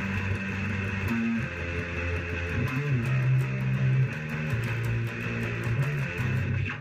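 Bass guitar plays a riff at regular speed with hammer-ons, a steady repeating low line under a continuous mid-loud backing, no voices.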